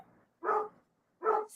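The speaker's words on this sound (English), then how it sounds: "Sorry about the dogs barking in the background" Dogs bark in the background: two separate, moderately loud barks spaced under a second apart, with only faint room noise in between and no one talking over them.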